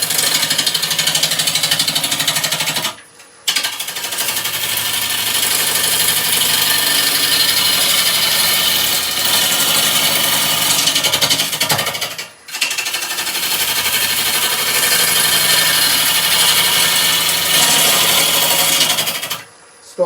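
A wood lathe spins a burr bowl blank while a large 1/2 inch M42 gouge skims the outer edge: a loud, continuous, gritty cutting roar with a few brief gaps before it resumes.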